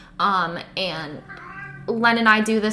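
A cat meows a few times nearby, short plaintive cries overlapping with a person talking.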